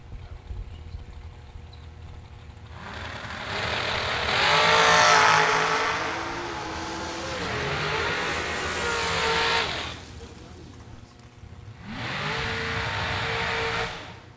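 Drag race cars launch down the strip at a Sunday event, engines roaring loud in a rising, sustained burst that fades, then a second loud pass follows near the end.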